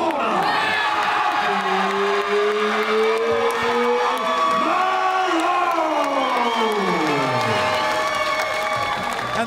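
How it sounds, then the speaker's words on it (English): A loud crowd cheers and shouts cage side at a junior fight-night bout just after a split-decision winner is announced, with steady roaring and whoops throughout and sustained tonal calls and shouting rising above the din. "The crowd is going wild cage side here for that performance from Alfie Malone."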